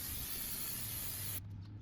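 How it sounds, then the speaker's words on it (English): Aerosol brake cleaner sprays in one steady, close hiss for over a second during a drum brake job, then cuts off abruptly. "Now spray some brake cleaner."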